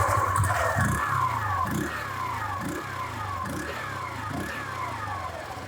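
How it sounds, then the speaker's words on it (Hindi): Close to the exhaust of a Hero Xoom 125cc scooter, the engine runs at a steady idle with a low hum, broken by soft rhythmic pulses about once a second. "so from a rider's perspective, अगर आप स्कूटर को ऑन करते हैं, this is how it sounds like"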